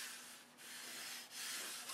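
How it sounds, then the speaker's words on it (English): Sandpaper rubs back and forth over a glued wooden model airplane frame in three long, close, hissing strokes with brief pauses between them. "I'll finish sanding all this up."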